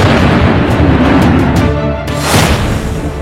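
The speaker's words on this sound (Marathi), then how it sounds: "पाक लष्कराची गाडी IED ने उडवली।" An IED explosion blowing up an army vehicle, a loud, dense roaring blast that fills the whole span, with a second burst of debris and rumble about two seconds in.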